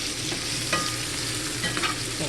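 Chicken and vegetables being stirred in a pot, with a steady soft sizzle and scraping from the spoon, plus a few louder clinks and scrapes along the way.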